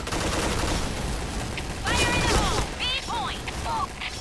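Rapid gunfire from the Point Blank shooter game, with a special Pink Dragon gun in play, crackles as a dense steady barrage over about four seconds, with sharp metallic pings and effects cutting through near the end.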